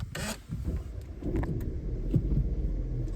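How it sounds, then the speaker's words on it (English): A Jeep Renegade with keyless start cranks and fires up, then a low engine rumble settles into a steady idle, close by and moderately loud with no talking. "It does start up quite nicely."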